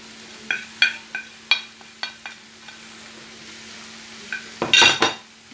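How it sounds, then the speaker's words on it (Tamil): Spices and softened vegetables being sautéed in a pan for masala puri chaat, with a series of sharp spoon clinks and scrapes against metal over a faint sizzle, ending in a louder burst of stirring. "இப்போ இதெல்லாம் வதங்கிட்டுருக்கு"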